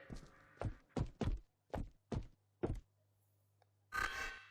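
A rifle magazine pushed into the mag well in a VR Minecraft weapons mod: a series of six hollow thunks and knocks in a quiet space, then a brief noisy scrape.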